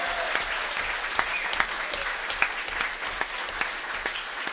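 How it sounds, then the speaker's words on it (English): An audience gives a round of applause for the accompanist at a community variety show in West Newbury, Vermont, a steady, close clatter of many hands clapping with a few louder individual claps standing out. "A special round of applause for Judy Vaughn, who is our accompanist tonight"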